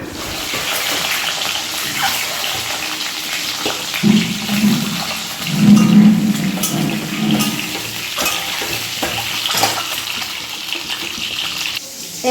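Eggs and potato sizzle in a pan with a touch of turmeric, a steady close frying hiss with brief louder bursts of stirring midway and no talk.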